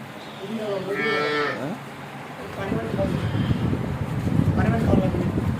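A young Jersey cow moos close by, a drawn-out low call followed by rougher lowing against steady outdoor background noise.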